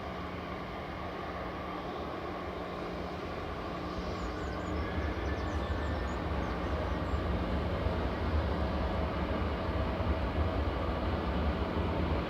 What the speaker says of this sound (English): just about to come over the threshold is Virgin's Flight 86, VS86 from Las Vegas. This is GV Lib, an A350-1000